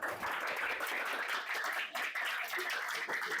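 An audience claps steadily and densely in a room, with bright, continuous applause and a brief dip partway through.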